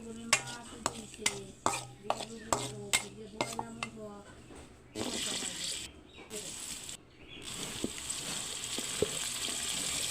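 Cut long beans go into a pan and are stirred, starting with a run of sharp metal clinks and scrapes, then a louder continuous sizzle with more scraping, with a voice talking at times.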